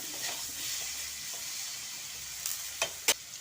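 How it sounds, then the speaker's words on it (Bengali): Potatoes with a little turmeric and salt frying in a pan: a steady close hiss of hot oil, ending in a few sharp spatula scrapes and clinks near the end, with no talk. "আলু ভেজে নেব"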